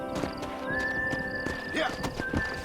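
A horse in the Western video game Red Dead Redemption gives a long whinny over a busy mix of hoofbeats and game sound, with voices talking underneath.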